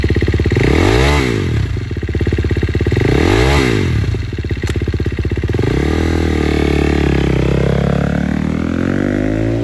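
A 2019 KTM 350SX-F motocross dirt bike fires up on its electric start, then runs loud and close with two rising revs before settling into a steady idle.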